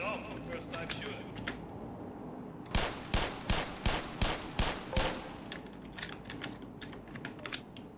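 Rapid series of about ten sharp gunshots at shooting-range targets in Black Mesa Blue Shift, evenly spaced and fairly close, following scattered quieter clicks and preceding a few more isolated shots.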